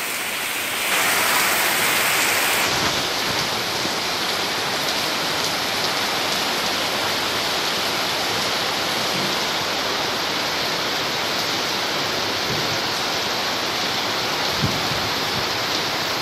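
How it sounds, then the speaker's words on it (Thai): Heavy rain pours down beside a canal in a dense, steady hiss that carries on without a break, loud and close, with no voices. "นี่นะครับบรรยากาศ ฝนตกริมคลอง"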